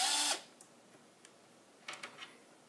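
A power screwdriver briefly whirs loud and close to back out a side screw on an HP DV6-1375dx laptop during a screen replacement, then a few faint clicks and taps of small screws being handled follow in near silence.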